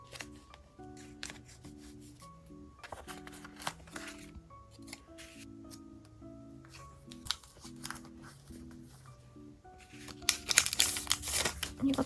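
Stickers are peeled and pressed into a diary with soft crinkly rustles, taps and rubbing, all under steady background music, with a burst of louder crinkling toward the end.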